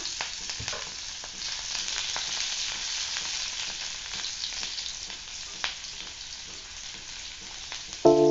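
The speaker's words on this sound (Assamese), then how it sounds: "পিঁয়াজটো ভাজা হৈছে বৰ্তমান" Onion sizzles in a pan with five-spice seeds and chillies, a steady close frying hiss with a few soft stirring scrapes and no talking.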